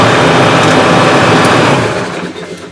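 A truck engine starts indoors during a Pennsylvania State Police mock DOT inspection, giving a loud, close, steady rumble that eases and fades toward the end.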